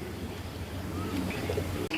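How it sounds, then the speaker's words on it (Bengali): Soft pigeon cooing from a gora pigeon in a loft, low and steady near the floor of a busy, noisy background, with faint chirps drifting through. "যারা গড়া কবুতর পছন্দ করেন, পেঁয়াজ সবজি করা মাদি"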